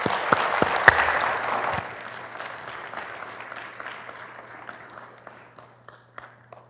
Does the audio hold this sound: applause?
yes